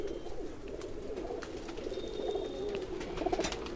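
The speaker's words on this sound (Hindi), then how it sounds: "बहुत ही हाई क्वालिटी कबूतरी, जिसे कहते हैं नायाब" A high-quality Nayab female pigeon, a cross of Batera and Tuni breeds, gives soft, low, rolling coos close by in a quiet room, continuous and gentle throughout.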